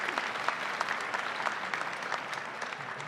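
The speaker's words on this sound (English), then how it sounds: "Let's give them a round of applause for being with us." An outdoor audience at a Christmas tree lighting in Pennsylvania claps for children, steady sustained applause from a fair-sized crowd without cheering, moderately close.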